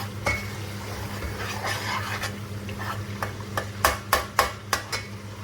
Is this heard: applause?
no